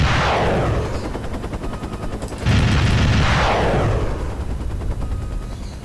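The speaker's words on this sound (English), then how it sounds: "Let's go and use some of these rockets." Rockets launch in the military video game ArmA: Cold War Rearmed, two loud whooshing blasts a couple of seconds apart, each a roaring burst that sweeps down in pitch and fades into a sustained rumble.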